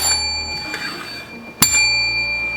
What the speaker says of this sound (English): Hit that bell so you too can be notified next time I upload another delicious recipe.